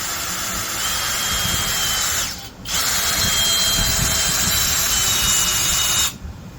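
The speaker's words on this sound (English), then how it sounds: "we'll go ahead and try this 4-inch deck screw" A brushless two-speed 3/8-inch right angle drill in low gear drives a 4-inch deck screw, a loud steady whine that sags briefly near the middle, then resumes and cuts off near the end.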